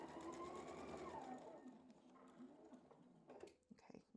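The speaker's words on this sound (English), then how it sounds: "I can't believe I'm sewing one of the blocks together" A sewing machine stitching quilt blocks together in a quiet, close whir that fades after a few seconds into faint handling clicks and rustles.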